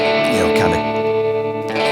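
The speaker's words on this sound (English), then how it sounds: "crunchy sound, bit of delay, reverb, a little bit of tremolo" Electric guitar playing a short phrase with crunchy overdriven distortion, washed in delay, reverb and a wavering tremolo, loud and sustained with ringing harmonics.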